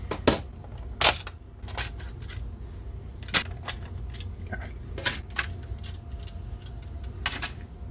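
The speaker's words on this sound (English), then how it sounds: "So let's open it up and take a look at what I had to do to get this working." A custom Nerf HyperFire blaster is handled and opened up, with sharp plastic clicks and clacks at irregular intervals over a low background hum, with no talk.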